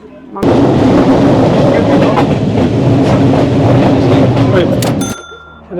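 Loud, steady rumbling and clatter of a moving train in Sri Lanka, heard from close by, holding constant for several seconds before cutting off abruptly.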